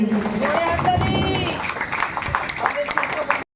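An audience at a blood donation camp in Rajarhat Gopalpur applauds the local MLA with scattered clapping under a loud amplified voice. The sound cuts off abruptly at the end.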